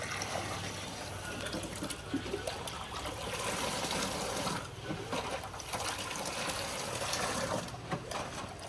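Water and sugar being stirred together for falsa sharbat, a continuous close splashing, sloshing liquid sound with brief dips, no talking.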